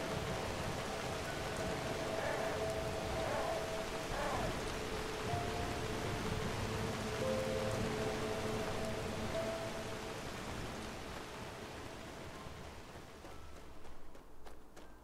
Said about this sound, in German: Wenn es gerade überall regnet.